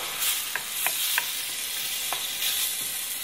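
Tomatoes and fresh basil stirred in a hot pan make a bright, steady sizzle, broken by several distinct spoon scrapes and clicks.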